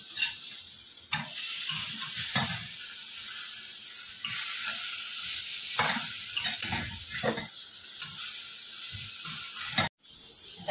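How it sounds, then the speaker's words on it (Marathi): Okra (bhindi) stir-frying in a pan, a steady sizzle with repeated scraping stirs of a spatula throughout, close and fairly loud, with a brief dropout near the end. "आता मग परतू शकते भेंडी."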